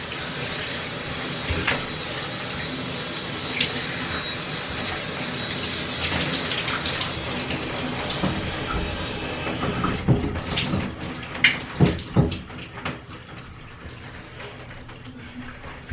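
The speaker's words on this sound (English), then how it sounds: "I figured out how to turn off the shower." A home shower sprays steadily as broadband water hiss, then the flow is cut off, leaving a few sharp drips and clunks of the fixture near the end.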